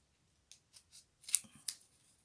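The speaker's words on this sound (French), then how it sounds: "je vais tout simplement couper ici et enlever juste un petit bout de ce papier" Scissors make small cuts into a piece of paper for a paper heart craft: a few soft snips, then two sharper, louder cuts close to the microphone in a quiet room.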